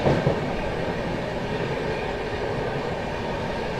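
The Indian Railways Sampoorna Kranti Express, New Delhi to Rajendra Nagar Terminal, approaches with a loud, dense rail roar and rattling wheels, close by and steady throughout, no talking.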